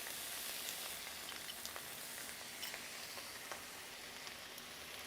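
Finely chopped tomatoes fry in a pan for Chettinad crab masala, giving a steady, even sizzle with faint crackles throughout. It sounds close but fairly quiet, and no one speaks.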